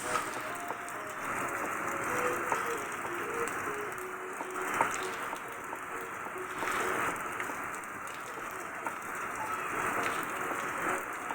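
Steady monsoon rain during the northeast Amihan season patters on surfaces all around, a continuous hiss with scattered drips and a faint tonal hum underneath.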